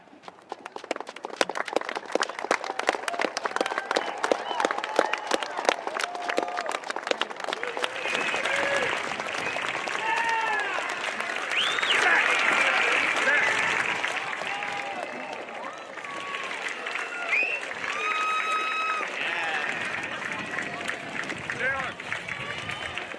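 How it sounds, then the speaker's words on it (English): High school graduating class applauding their supporters at a graduation ceremony, sustained loud crowd clapping that swells and runs on, mixed with cheers and whoops from a large audience. "give your loving supporters a hearty round of applause"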